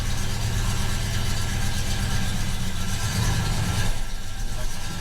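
A classic Rover P5B idles on choke at its first start of the year, with a loud, steady low rumble and a slight rise in pitch partway through.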